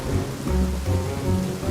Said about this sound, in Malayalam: പെട്ടെന്ന് ഇടിമിന്നലോടെ കനത്ത മഴ പെയ്യാൻ തുടങ്ങി.